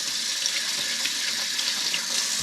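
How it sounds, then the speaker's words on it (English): Tap water pours steadily over Chinese broccoli in a sink, a constant bright hiss and splash heard close up with no talking. "I'm gonna rinse that just so it's not a"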